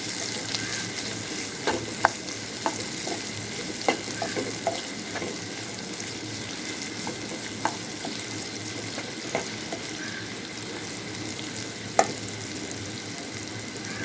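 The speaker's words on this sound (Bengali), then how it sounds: "রসুন, কাঁচা জিরা, তেজপাতা, এলাচ, দারুচিনি সবকিছু দিয়ে আমি এখন এটা নাড়াচাড়া করব।" Garlic, cumin, bay leaf, cardamom and cinnamon fry in a pan while being stirred, a soft continuous sizzle punctuated by scattered sharp clicks and scrapes of the spoon against the pan, quiet and close.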